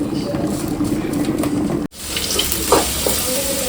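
Mustard seeds pop and fry in a pan with a steady sizzle, a brief break midway, and a voice speaking over it.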